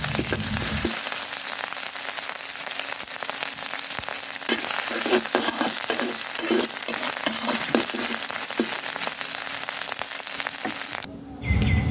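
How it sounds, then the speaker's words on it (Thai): Thai red curry paste for a spicy fish curry with pickled bamboo shoots sizzles and crackles steadily as it is stir-fried in hot oil in a pan, loud and close, with scattered stirring scrapes and no talking. "ขั้นตอนแรกเราเอาพริกแกงไปผัดกับน้ำมันครับ"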